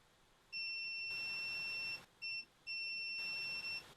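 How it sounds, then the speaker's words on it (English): A multimeter in continuity mode gives several sharp, steady electronic beeps, one long tone, a brief blip and two more tones, clear over quiet background. "Continuity mode."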